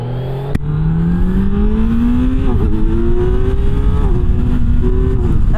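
A 2025 Kawasaki Z900 with quick shifter ridden hard on a race track, the engine howling loud and close as it climbs steadily through the revs, with brief dips at quick gear changes before pulling up again.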